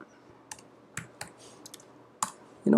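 Quick, crisp keystrokes on a computer keyboard, a few separate taps spread through a quiet stretch with a faint steady hum behind, ending in a louder clack.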